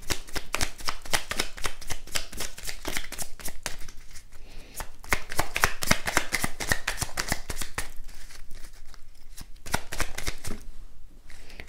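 Tarot cards are shuffled continuously for about twelve seconds, a close, steady run of rapid papery riffles and slaps with no voices.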